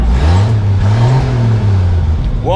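A 1963 International Harvester Travelall wagon with a swapped 6.0 LS V8 runs loud and close, its rough rumbling engine note rising and falling briefly as it revs, with no talking over it.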